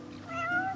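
A single rising, plaintive cat meow from Final Fantasy XV, short and clear at moderate loudness, with nothing else heard.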